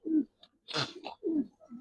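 Young Giribaz coloring pigeons, silver and khaki, coo in a close, clear series of three low rolling calls, with a brief rustling flutter between them and no talking.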